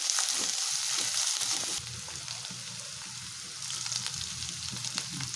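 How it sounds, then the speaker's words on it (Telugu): Ginger garlic paste frying in a pan over already-fried onions and curry leaves for a green pea curry gives a close, steady hiss that softens slightly after the first couple of seconds, with light stirring ticks. "కొద్దిగా అల్లం వెల్లుల్లి పేస్ట్ వేసుకొని ఫ్రై చేసుకోవాలి"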